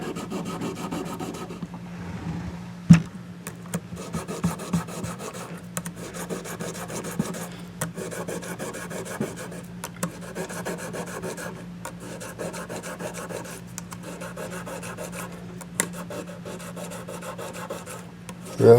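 Guitar parts being rubbed and polished by hand to clear off dirt, a continuous close scraping rasp with small irregular bumps and a couple of sharper knocks, steady throughout with no talking.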